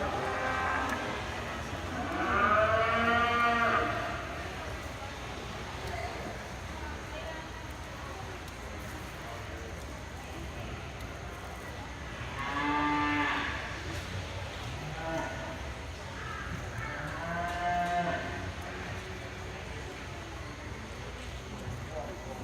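Cattle at a junior national livestock show low and moo in three separate, fairly loud calls spread across the stretch, set against a steady murmur of barn noise.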